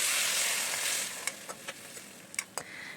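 Water poured into a pan of vegetarian vegetables, banana flower and banana stem, set frying and being stirred, brings a steady close hiss followed by a few sharp sizzling crackles and clicks, with no talking.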